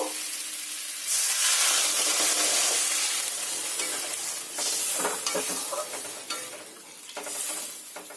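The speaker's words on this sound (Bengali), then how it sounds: "আমার মশলাগুলো আলুর সঙ্গে খুব ভালো করে কষানো হয়ে গেছে। এবার এতে জল দিয়ে দেব।" Water pours into a pan of spiced potatoes that were being fried with spices. It sets off a loud, close burst of hissing sizzle that surges and fades over several seconds, with stirring scrapes, and no voices.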